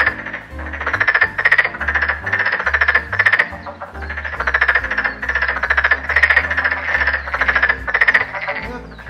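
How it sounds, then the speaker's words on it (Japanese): Frogs croaking in chorus on a summer night in Gifu, a loud, dense and resonant rhythmic pulsing that carries steadily throughout without any voices. "カエルの鳴き声って結構響くんですよ。"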